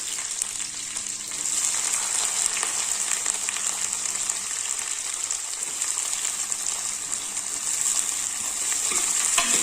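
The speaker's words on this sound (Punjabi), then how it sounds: "ਤੇ ਹੁਣ ਅਸੀਂ ਇਸ ਵਿੱਚ ਪਾਵਾਂਗੇ ਅਦਰਕ ਅਤੇ ਲਸਣ ਤੇ ਹੁਣ ਅਸੀਂ ਇਸ ਵਿੱਚ ਪਾਵਾਂਗੇ ਪਿਆਜ਼" Steady crackling sizzle of ginger, garlic and onion frying in oil, with occasional stirring scrapes and a bright, persistent hiss throughout.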